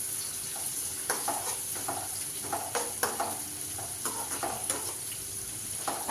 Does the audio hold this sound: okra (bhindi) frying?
yes